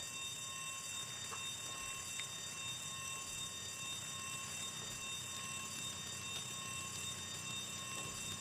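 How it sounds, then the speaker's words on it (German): A steady electronic alarm in the video game Fallout 3 rings continuously in sustained high tones, fairly quiet and unbroken throughout, with no voices over it. "Ich dachte, damit kriege ich vielleicht den Alarm aus."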